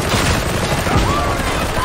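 Combat in Warhammer 40,000: Darktide, a loud dense clatter of rapid gunfire and blasts crowding together over a short burst.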